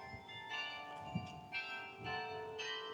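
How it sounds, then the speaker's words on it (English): Church bells are played by hand in a tower in Voorburg, several overlapping ringing tones heard faintly from a distance, each strike sustaining and fading. "there's actually somebody in that tower playing with those bells"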